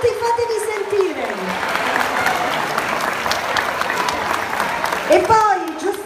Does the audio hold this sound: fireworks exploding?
no